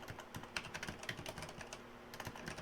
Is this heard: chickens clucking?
no